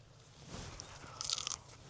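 A single crisp bite into a crunchy apple, followed by a short burst of crackling chewing, close up and fairly quiet.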